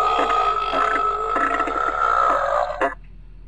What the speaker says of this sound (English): I'll burp and fart at the same time.